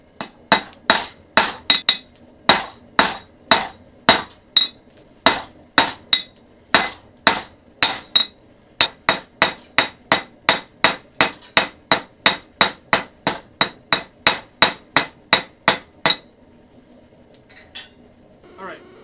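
A blacksmith hammers metal to taper both ends of a bar, with around thirty sharp, ringing blows struck in a steady, close rhythm before the strikes stop and a brief faint clink follows.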